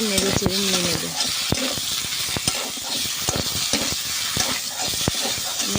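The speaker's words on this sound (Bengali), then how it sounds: "এতে আবার আলু আর পটলগুলি দিয়ে ভালো করে নেড়ে চেড়ে নিয়ে নেব।" Potatoes and pointed gourd are stirred into a sizzling spice paste for a potol paneer curry over a home stove: a steady, close frying hiss with repeated scraping and clacking stirring strokes throughout.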